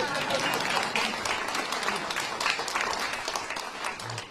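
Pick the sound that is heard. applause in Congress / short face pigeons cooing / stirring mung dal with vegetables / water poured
applause in Congress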